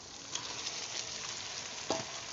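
Chicken meat sizzling in a pan with fried tomatoes, a steady hiss of frying with a couple of soft stirring scrapes.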